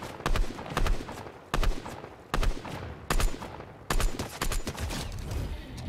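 Repeated gunfire bursts from the video game Fortnite, sharp cracks in clusters of several shots with short pauses between, loud and close, continuing in a steady irregular rhythm without talk.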